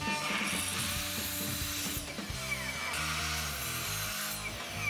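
A saw cuts wooden sideboards with a slide inset for an elevated dog bowl holder, giving a continuous loud rasping drone with shifting tones and brief surges, close by and with no speech.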